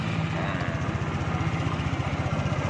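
A Vespa Matic Lambretta-style scooter engine runs at a steady idle close by. The even, throbbing putter continues without break and no one speaks.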